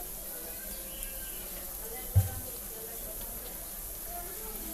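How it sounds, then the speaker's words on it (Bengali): Spice paste with turmeric and chili powder sizzles as it is stir-fried in a pan for shrimp bhuna, a steady, even hiss with one dull knock of the spatula partway through. "এই তো এখানে মশলাটা দিয়ে আমি আবার একটু নেড়েচেড়ে ভেজে নিচ্ছি"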